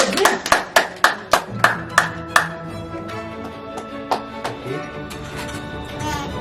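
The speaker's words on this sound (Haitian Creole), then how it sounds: "Applaudis que si pour nous s'il vous plaît." A run of about eight sharp, evenly spaced hand claps opens loud and close, then gives way to softer, scattered clapping beneath a low murmur of voices.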